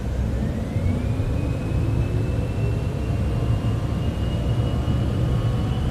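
Engine of a charter jet flying from Palm Beach, Florida, spools up for takeoff as the throttle goes forward. A steady, loud roar holds throughout, with a rising whine climbing above it.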